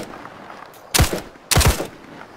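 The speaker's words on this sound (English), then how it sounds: "Laying down suppressive fire" Two loud, close bursts of suppressive gunfire from the Arma 3 video game, about half a second apart, each a sharp crack with a short rumbling tail, no talking.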